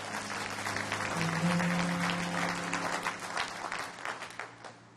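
Church congregation applauding during a Sunday service, with dense, sustained clapping from many hands that fills the room and slowly thins out toward the end.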